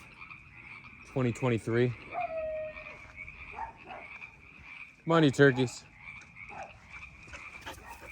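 Frogs croak outdoors at night in two loud rattling bursts, nearby, against a steady insect-like hum, with a person talking briefly in between.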